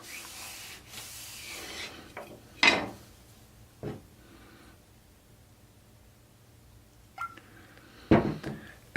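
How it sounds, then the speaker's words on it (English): A cotton shirt soaked with walnut oil rubs over wooden kitchen utensils, giving soft, close scrubbing strokes with a few sharper brushing swipes and knocks spaced through a quiet background. "just put some oil on the cotton shirt and then rub it on the utensils"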